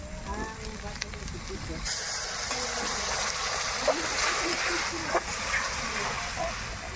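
Ginger garlic paste hits hot oil with fried spices and sets off a sudden loud, steady sizzle that continues close by, with light spatters and occasional clinks, while people talk over it.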